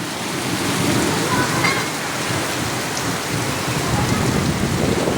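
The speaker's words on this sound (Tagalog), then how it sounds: "Lakas ng ulan." Heavy rain pours steadily in a stormy downpour near Taal Volcano, a dense, loud hiss on surfaces throughout with faint rumbles, and a voice speaks briefly under it.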